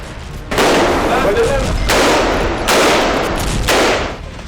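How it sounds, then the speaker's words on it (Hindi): A powerful blast in southern Gaza during wartime, heard as loud, sustained roaring bursts of explosive noise that swell and recur several times, with a faint voice underneath. "दक्षिणी गाजा में एक जबरदस्त धमाका होता है"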